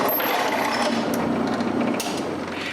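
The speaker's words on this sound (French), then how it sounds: "je mets les deux bouts qui vont recevoir le trou pour le cadenas ensemble et je les perce les" A drill bores through two stacked metal pieces at once to make a padlock hole, a close, steady grinding whir with scraping bursts and a brief catch near the end.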